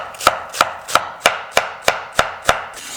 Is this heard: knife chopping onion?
yes